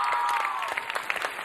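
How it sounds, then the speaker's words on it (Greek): Studio audience applause on the Greek Dancing with the Stars live show, a moderate crowd clapping that thins toward the end into a few distinct separate claps. "Δυνατό χειροκρότημα"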